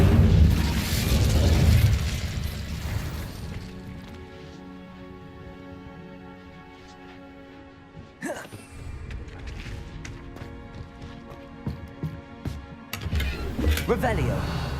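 Spell blasts and explosive bursts in the video game Hogwarts Legacy, several loud booms and crashes over a dense game score, a sharp impact around the middle followed by more pops, with a voice casting spells.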